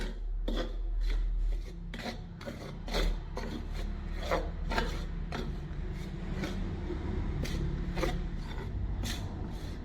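Hot ghee shortening worked by hand into semolina and flour dough for fried modak, giving a steady close rubbing and rasping with repeated soft scraping strokes, with no talk.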